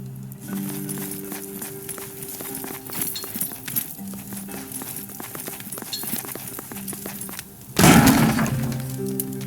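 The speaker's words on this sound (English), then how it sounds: "why are you smashing the workbench?" A wooden workbench is smashed in the Roman-era video game Expeditions: Rome, a loud, close crashing burst of breaking near the end that cuts over steady game music and earlier light clip-clop sounds.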